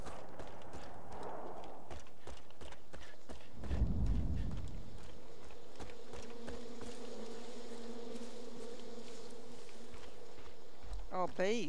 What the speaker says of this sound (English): I said there's bees.